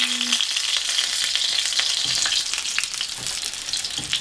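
Pork and cabbage egg rolls fry in hot oil, a dense, steady close sizzle with crackling pops throughout and no talk.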